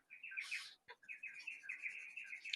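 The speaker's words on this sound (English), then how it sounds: "you can hear the birds on the veranda" Birds on a veranda chirp in quick, high, continuous twittering, fairly faint and a little distant, with a brief louder burst early on and no voices.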